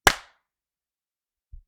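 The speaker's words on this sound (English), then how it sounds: "we already got the clap" A single sharp clap from two people clapping together, close and loud, followed by silence and a soft low thump just before the end.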